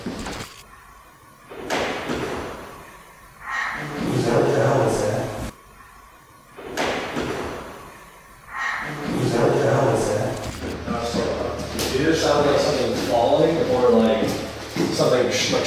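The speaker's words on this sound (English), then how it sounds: "Shaking and rattling like the door almost" A door inside a haunted asylum building shakes and rattles, giving repeated sharp thuds and slams in bursts, loud and close, with people talking between and over the noises.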